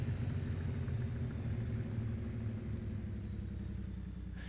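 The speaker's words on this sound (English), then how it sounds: "The noise of this truck is good." A truck engine idles steadily in Farming Simulator 19, a low continuous rumble heard alone and fairly quiet throughout.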